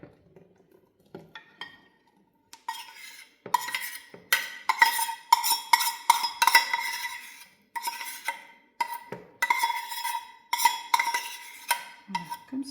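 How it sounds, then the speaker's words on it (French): A spoon stirs melted chocolate through brownie batter in a bowl, making close, rhythmic scraping and clinking strokes that come in bursts with brief pauses between them. "Nous allons encore mélanger un petit peu."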